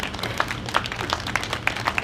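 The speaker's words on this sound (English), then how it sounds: "Let's give these veterans a round of applause" Scattered clapping for veterans at a Veterans Day parade, a crowd applauding outdoors in a loose, uneven patter at moderate distance.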